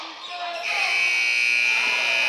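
A loud, sustained buzzer blares at a college basketball game between Enterprise State and Coastal Alabama North, starting after a brief moment and holding steady to the end over crowd and court noise.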